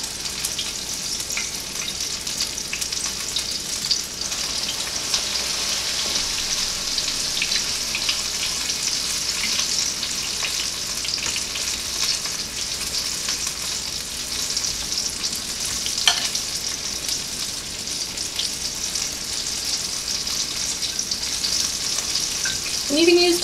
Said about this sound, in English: I'm going to fry those till they're golden brown on the first side